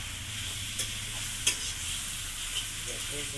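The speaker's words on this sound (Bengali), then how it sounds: "চিকেন দিয়ে দিচ্ছি" Chicken goes into a hot pan for a quick chicken dish and fries with a steady, hissing sizzle. A few faint clinks and stirring scrapes break through the even frying noise.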